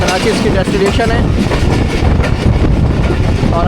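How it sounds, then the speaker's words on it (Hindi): Shah Hussain Express passenger train running from Karachi to Lahore, a loud continuous rumble and rattle of carriages with rhythmic wheel clatter, heard from inside, with someone talking over it. "मैं ट्रैवल कर रहा हूँ। अभी चाहे शाह हुसैन कह लें या कराची एक्सप्रेस कह लें"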